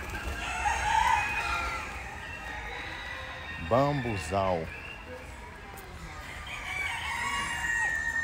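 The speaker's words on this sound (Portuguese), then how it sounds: "Tem cocá, galinha, galo." Roosters and chickens at Parque Água Branca in São Paulo, with one loud rooster crow in the middle standing out over a busy outdoor background of clucking and ambient noise, while someone talks nearby.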